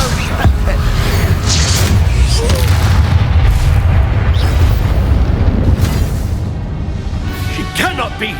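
Confringo spell blasts in the Hogwarts Legacy game: dense, rumbling booms and bursts layered with combat noise and voices, continuous and loud throughout.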